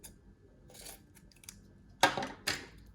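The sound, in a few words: small scissors trimming a handmade Christmas ornament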